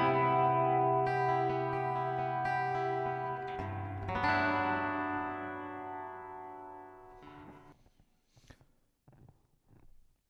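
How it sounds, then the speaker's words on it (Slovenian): A Lag HYVIBE Tramontane electro-acoustic guitar playing sustained chords through its built-in reverb, notes ringing long and airy before a second strum, then fading into scattered lighter plucks and string noise. "Pa da vidimo, kako se sliši z reverbom."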